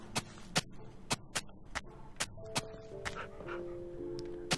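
Minecraft wolves give a rapid series of sharp, short game barks, about a dozen evenly spaced yaps over a few seconds, clear and fairly close against quiet background ambience with faint tonal hums.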